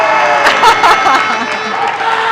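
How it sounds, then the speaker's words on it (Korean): A crowd cheers and roars after Czech youth bowler Luka Salinek clinches victory at the 2024 IBF World Youth Bowling Championship, a loud, steady wash of shouting and applause echoing through the bowling arena, with a commentator's voice faintly over it. "승리의 저런 함성 너무 좋아요"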